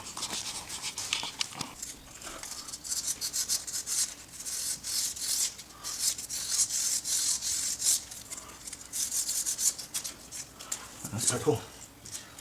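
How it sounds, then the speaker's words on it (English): Hand sanding of excess JB Weld epoxy on a repaired curb-rashed wheel, repeated scratchy rasping strokes at close range in uneven bursts, with a short low knock near the end. "So I just sand this little piece right here, make that smoother."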